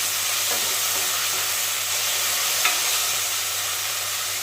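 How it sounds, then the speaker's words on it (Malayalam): Chopped green tomatoes sautéing with onion in a pan for a mixed-vegetable theeyal, a loud continuous close sizzle with a few light stirring clicks and no voices. "അതിലേക്ക് നമുക്ക് അരിഞ്ഞു വെച്ചിരിക്കുന്ന പച്ചത്തക്കാളി ഇട്ട് കൊടുക്കാം. അത് ഒന്ന് വഴന്ന് വരട്ടെ"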